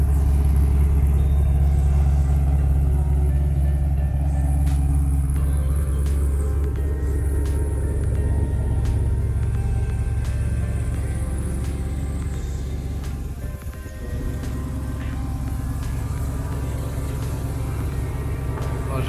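A Lotus Exige 350 Sport sits at a circuit with its engine running, a loud, deep, steady rumble that holds nearly constant and dips briefly near the end.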